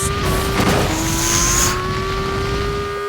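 A racing car from the mobile game Rebel Racing roars with a steady, rising engine tone, and a sharp tire squeal cuts through early on before the engine carries on alone, loud and close.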